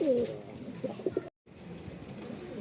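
Pigeons in a loft give a few soft, close coos early on, then a low, fainter stretch of shuffling ambience after a brief dropout.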